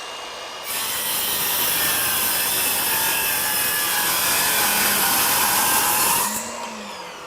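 A Ryobi 18V 7-1/4 inch sliding compound miter saw, set at a 30-degree bevel, cuts through wood: a loud, steady high whine that runs for about six seconds, then winds down as the blade spins to a stop.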